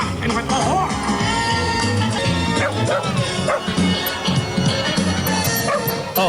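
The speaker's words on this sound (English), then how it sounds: "You hear dogs barking, right? Yes. And that sounds like that's a real dog, right? That's because it is real dogs." Real dogs barking within a Halloween party show soundtrack at Mickey's Not-So-Scary Halloween Party, repeated yips and barks mixed into loud busy music and effects.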